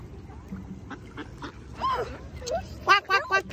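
A voice imitates a duck, ending in three quick, nasal quacks after some softer vocal sounds over low background noise.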